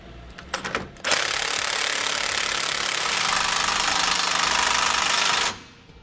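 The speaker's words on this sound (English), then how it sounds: "Now we can go back and tighten down all of our large bolts using a 24mm socket and wrench." A 24mm socket and wrench tightens large bolts on a Roadmaster rear anti-sway bar: a few sharp clicks, then a loud, steady, buzzing mechanical rattle that holds for about four seconds before cutting off.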